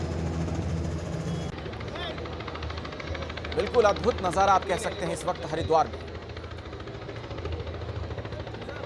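Helicopter flying over Haridwar and showering flowers on sadhus at the ghats during the Maha Shivratri royal bath: a steady rotor drone under crowd noise, with someone talking throughout.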